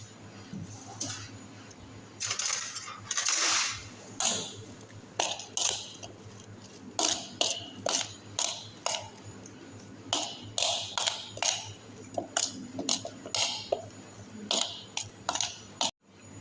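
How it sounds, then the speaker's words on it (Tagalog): Grilled chicken and vegetables being mixed by hand in a dish, a run of light irregular taps and clacks of utensils against the container, close and fairly quiet with no talk. "halo-haloin lang natin ito"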